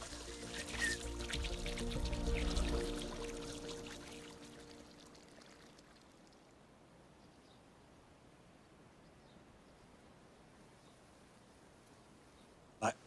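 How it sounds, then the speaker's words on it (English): Garden water feature trickling and pouring steadily, louder at first and then settling into a soft, continuous flow with a faint knock near the end. "sit, listen to the sound of the water"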